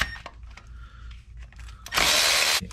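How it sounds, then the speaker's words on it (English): A power tool whirs in one short, close burst, working a 13 mm subframe bolt loose on a high-mileage Mini Cooper S R53, after a few quiet clinks of handling. "now let's start taking the bolts off it's 13 mil bolts"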